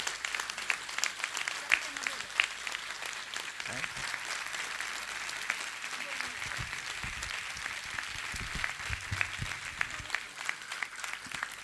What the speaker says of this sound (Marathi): मंडळी बरोबर मोजून 2 मिनिटं ह्या मुलांच्या आई बापासाठी टाळ्या वाजू देत